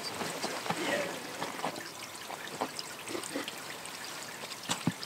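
Water from a mountain spring in rural Japan trickles and dribbles steadily in a soft, continuous flow with small splashing accents, fairly faint and close by.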